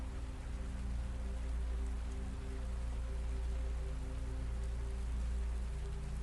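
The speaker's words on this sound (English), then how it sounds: "And the rain continues to fall." Steady, continuous rainfall pours down evenly throughout, a dense close hiss with a low hum underneath and no speech or thunder.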